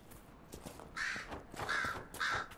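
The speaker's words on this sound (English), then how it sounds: "Hello, crow." A crow caws three times in Dragon Age Inquisition near a cliffside cave, harsh repeated calls rising over faint outdoor ambience, fairly close and distinct.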